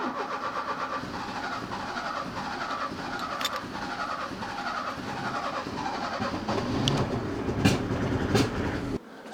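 An Opel Ascona engine runs with new spark plug cables fitted, a steady close mechanical drone with rhythmic clatter throughout, briefly sharpening near the end before cutting off abruptly.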